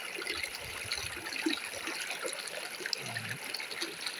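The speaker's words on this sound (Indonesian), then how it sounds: "Itu suara airnya" Water babbles and trickles over rocks in a clear rocky village river, a soft continuous flow with small splashes and gurgles throughout.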